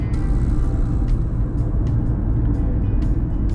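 An Audi A4 TDI with around 240,000 km accelerates hard, a steady loud road rumble of engine and tyres carried throughout with no talk.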